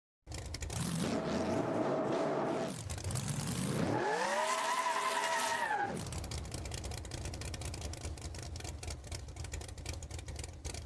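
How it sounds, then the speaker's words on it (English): A tuned gangster-class car in BeamNG Drive, its engine revving hard as the tires try to spin, rising to a loud high whine, then dropping back to a steady gritty drone with rapid ticking, close and continuous. "I'm gonna try to make it spin the tires"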